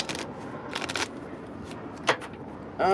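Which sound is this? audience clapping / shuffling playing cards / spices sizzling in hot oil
shuffling playing cards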